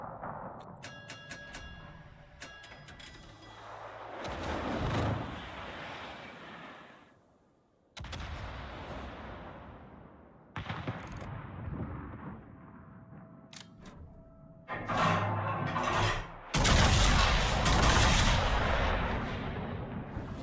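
Naval artillery from warships in World of Warships booms repeatedly, with heavy broadband blasts and rumbling shell impacts that grow louder and denser toward the end, and no talking over them.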